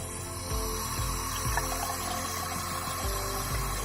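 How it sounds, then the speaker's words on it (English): Water running from a tap at a sink for cleaning makeup brushes, a steady close rushing flow with faint periodic thumps underneath and no voices. "So I'm going to go ahead and turn on the water."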